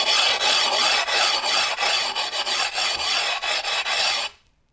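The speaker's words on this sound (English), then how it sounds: "you want to have a rub stone or some other type of way to sand the edge" Rub stone being dragged along the cut edge of a tile, steady rhythmic rasping strokes, close and loud, ending abruptly in silence.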